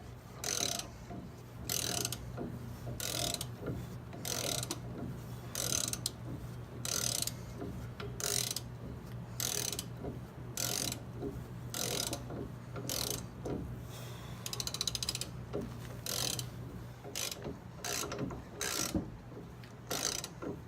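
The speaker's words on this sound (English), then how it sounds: "Just set the press up on there and use the actual bolt by itself and just push that guy out, crank on the ratchet." Ratchet cranking the bolt of a ball joint press on a car's lower ball joint, a long series of repeated clicking strokes in a steady rhythm, close and clear with no talk.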